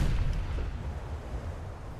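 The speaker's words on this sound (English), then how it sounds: "By just spamming the gun turrets with high explosive over and over again." German cruiser gun turrets firing high-explosive shells in a naval video game, a heavy low boom at the start decaying into a rumbling tail, loud and close, no talking.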